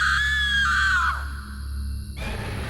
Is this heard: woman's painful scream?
yes